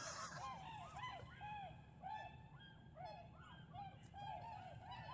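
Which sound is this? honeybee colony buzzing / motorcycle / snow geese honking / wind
snow geese honking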